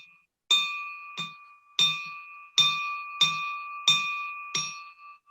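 A ringing bell at a Rotary club meeting is struck about eight times in an uneven rhythm, each bright metallic strike clear and close with a short fading ring.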